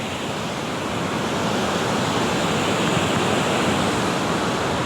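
Rushing water at Charmadi Ghat pours in a steady, dense roar, loud and close, with no pauses and no voices.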